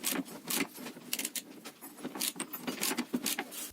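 Close metallic ratcheting and clinking as a ball joint puller's bolt is tightened against a control arm joint, a busy run of small sharp clicks and scrapes with no talk.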